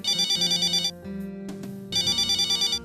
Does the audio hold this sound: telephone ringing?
yes